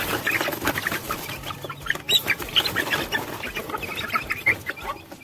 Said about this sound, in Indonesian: ayam yang umurnya kurang lebih 6 minggu ini sebetulnya.